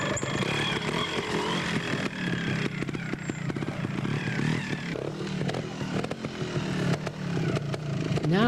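A purple Aprilia trials motorcycle at a national moto-trials championship climbs up and over a rock step, its engine buzzing steadily up close with scraping and clattering against the rock throughout.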